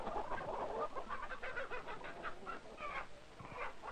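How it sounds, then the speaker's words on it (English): Hens on a poultry farm cluck and cackle continuously after laying an egg, a busy, noisy chorus, fairly close and loud, with no talking. "the hen cackled because she just laid an egg"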